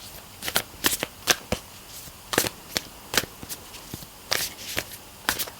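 An oracle card deck being shuffled by hand, a close series of crisp riffling snaps and flutters in irregular bursts, with quiet pauses between them and no talking.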